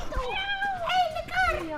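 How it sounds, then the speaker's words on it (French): A cat meows several times, with long rising and falling cries, over people chatting in French close by. "Oh, il y a un chat."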